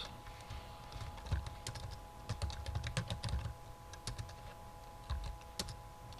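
Fingers type an email address on a computer keyboard in a run of irregular, fairly close clicks with brief pauses between bursts, with no talking.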